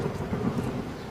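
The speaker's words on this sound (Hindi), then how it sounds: "फिर अगले दिन बहुत तेज़ों की बारिश होने लगती है और हवा भी चलती है।" A cartoon thunderstorm with heavy rain and wind gives a low, rolling rumble over a steady wash of rainfall, moderately faint and continuous, with no voices.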